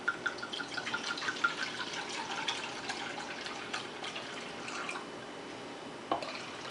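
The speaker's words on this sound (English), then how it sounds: "we're going to add our wine, which is white wine with Chardonnay" White Chardonnay wine is poured into a cooking pot, giving a faint, steady trickle and splash that lasts several seconds with a few light clinks.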